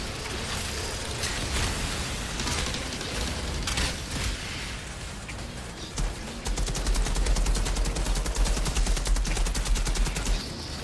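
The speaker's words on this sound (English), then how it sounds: "Activated the rocket launcher by mistake again." Weapons fire in the shooter game Outriders, where a rocket launcher goes off amid ongoing gunfire: dense rapid bursts and pops, with a heavier, louder stretch of repeated blasts in the second half, no talking.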